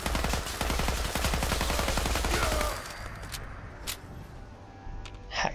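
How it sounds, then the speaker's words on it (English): Rapid automatic gunfire rattles loud and close in Fallout 4 during a fight with super mutants, a dense burst for nearly three seconds that drops to sparse distant pops and a few scattered single shots. "Someone's shooting me, oh yeah."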